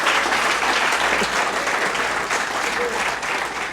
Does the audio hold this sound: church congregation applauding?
yes